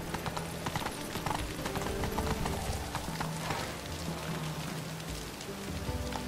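A horse's hooves clip-clop steadily in The Witcher 3 during a night ride, a continuous rhythmic trot with rainfall pattering underneath and a faint whinny.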